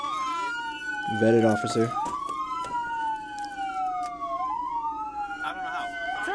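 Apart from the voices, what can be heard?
police car siren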